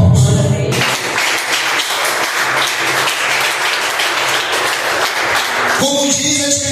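A Baptist church congregation breaks into dense, sustained applause for several seconds, with many hands clapping loudly close by before it fades.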